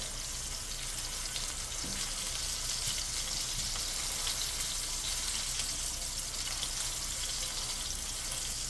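A tomahawk ribeye steak sears in a hot pan, giving a steady, even sizzle and crackle that stays constant throughout, close and moderately quiet with no voices.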